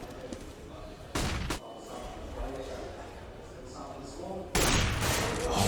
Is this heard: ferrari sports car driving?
no